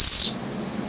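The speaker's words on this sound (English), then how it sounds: "This one's like a normal whistle." A bark-stripped whistle carved from a stick gives one short, loud, shrill blast lasting about a quarter second, then cuts off abruptly into quiet room noise.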